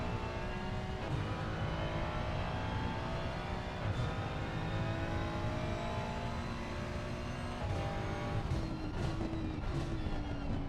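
A rear-engine, rear-wheel-drive race car in a sim racing game drones continuously at a steady, moderately quiet level, its engine note rising slowly with brief shifts toward the end.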